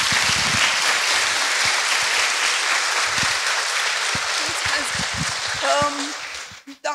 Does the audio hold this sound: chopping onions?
no